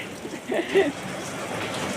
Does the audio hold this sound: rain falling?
yes